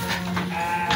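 Garut sheep bleating in a colony pen while being fed, several short bleats over steady farm background noise.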